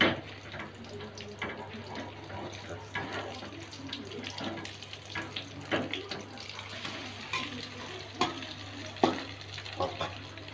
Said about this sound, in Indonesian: aduk seperti ini agar bagian bawahnya tidak gosong